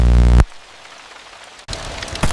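Steady rain falls as a continuous hiss, loud at first, then softer and broad, swelling again near the end with no voices.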